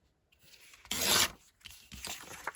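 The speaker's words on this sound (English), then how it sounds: "I'm just going to tear it in half" A sheet of paper torn in half by hand during a drawing craft session, heard as a short, close, crisp ripping burst after a brief rustle, followed by softer handling sounds.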